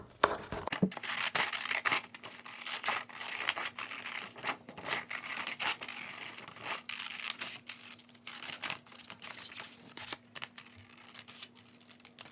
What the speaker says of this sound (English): you're going to take your scissors and you're going to cut on the outline of the circles.